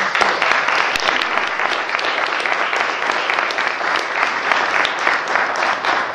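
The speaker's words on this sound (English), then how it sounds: "Let's give them a round of applause." Audience at a neighborhood association general meeting applauds, a dense, continuous burst of clapping lasting several seconds, fairly close and loud.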